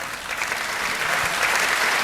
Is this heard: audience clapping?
yes